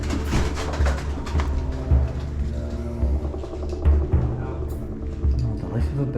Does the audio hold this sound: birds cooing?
yes